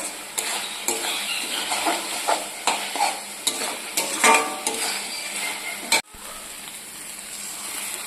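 Spice paste for a goat liver curry is stirred and fried in oil, a steady sizzle broken by regular scraping spoon strokes against the pan, which stop abruptly near the end while the frying hiss carries on more quietly.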